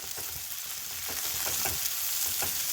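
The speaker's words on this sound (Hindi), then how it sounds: "पत्ता गोभी ऐड करने के बाद हम इसे अच्छे से मिक्स कर लेते हैं सारी चीज़ों में।" Green chilli and shredded cabbage being stir-fried for masala Maggi noodles, a steady close sizzle with a spatula scraping and tossing in rhythmic strokes through the pan, no voices.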